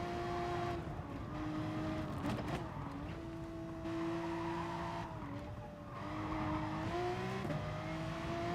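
A race car engine at Mount Panorama in a racing video game holds a steady whining drone, its pitch dipping and rising through gear changes and braking, with brief tire squeals and no voices.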